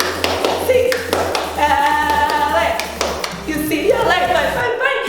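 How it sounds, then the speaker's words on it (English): A rhythmic eight-count clap cheer at a UCLA spirit chant, a group clapping in a steady beat of sharp, close hand claps, with voices counting along over them. "I would love to end the video with another 8 clap."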